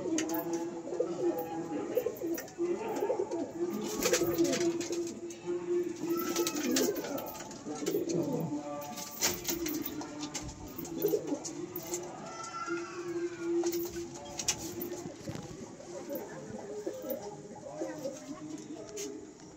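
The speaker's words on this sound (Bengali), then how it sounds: "এটা একটা নর পায়রা, সাদা পায়রা" Giriraj pigeons coo in low, repeated throaty bursts throughout, mixed with someone talking nearby and some rustling.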